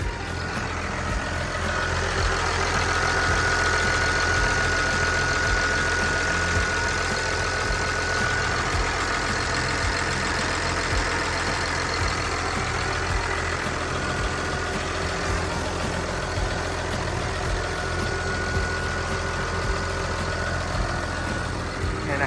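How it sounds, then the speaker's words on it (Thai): The six-cylinder turbo engine of a Komatsu WA380-6 wheel loader idles steadily at close range, a low, even rumble that holds throughout with no voices. "เครื่องยนต์ของเขานะครับ จะเป็นเครื่องยนต์ 6 สูบเทอร์โบนะครับ"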